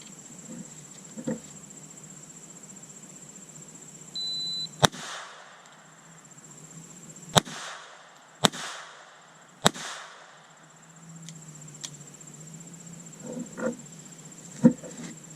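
A High Standard M-101 pistol fires hollow point rounds at competition shooting practice, with about five sharp, separated reports at irregular intervals over a faint outdoor background with insect-like hiss.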